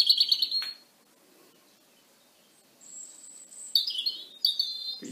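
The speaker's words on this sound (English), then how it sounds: "I'm going to play you the song now of the robin." European robin song in short, high, thin chirping phrases, with one bright burst at the start and several more near the end, separated by a faint, quiet gap.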